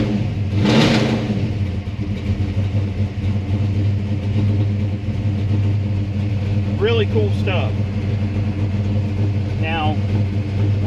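A car engine with advanced ignition timing idles high, near 1340 rpm, after a short rev at the start, a steady close rumble with someone talking over it.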